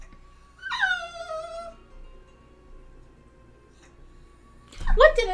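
A dog whimpers in a high, wavering whine lasting about a second, followed by quiet and a second burst of whining near the end, both fairly close and clear.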